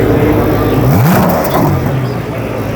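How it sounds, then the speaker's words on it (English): A 2014 Bentley Continental GT engine revs up loudly and close by, the pitch sweeping up and down in a couple of bursts over a steady rumble, with voices faintly underneath. "Oh my God, listen to that engine."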